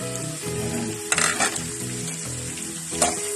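Mushrooms sautéing for Filipino ginisang mushroom with soy sauce, a loud close sizzle with rhythmic stirring scrapes and a few sharper spatula clatters, no talking.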